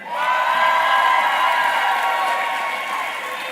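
Graduation ceremony audience applauding a scholarship recipient with sustained, dense clapping and some cheering, loud and steady throughout, tapering slightly toward the end.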